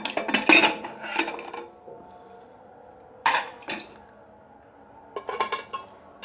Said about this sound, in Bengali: একটা কাঁটা চামচ আমি ঢাকনাটা উঠিয়ে নেব, কারণ আমার ঢাকনাটা খুবই গরম, স্টিলের ঢাকনা